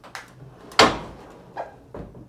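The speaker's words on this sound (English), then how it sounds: "So it has a separate sliding door." A separate sliding door to a black toilet in a New Orleans hotel room at The Barnett rolls and thuds, with one sharp knock near the middle and a few softer bumps around it, close and fairly loud, with no one talking.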